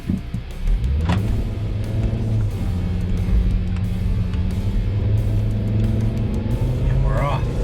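A 2007 Volvo S60R pulls away, its engine a steady low rumble with rising tones as it gets going, heard from inside the car, with a brief whine near the end and people speaking over it.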